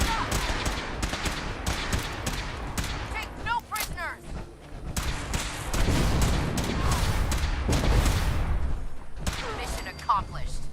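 A Fallout 4 firefight with Sim Settlements 2, Brotherhood troops battling respawning gunners: dense, near-continuous rapid gunfire with heavier booms, faint voices mixed in.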